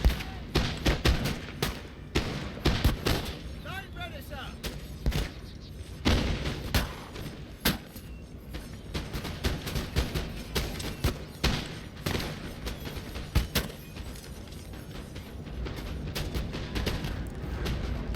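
Infantry musket volleys in the Napoleon: Total War video game, with repeated crackling fusillades and thumps rolling across the battlefield in uneven bursts over a continuous din of distant fire.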